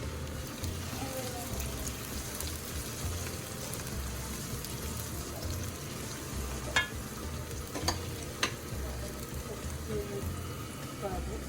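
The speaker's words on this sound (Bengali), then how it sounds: "আমরা একটু নেড়ে দিচ্ছি।" Softened onions are stirred in a pot while making roast chicken at home, a steady soft sizzle running throughout with a few sharp scrapes of the spoon against the pot near the end.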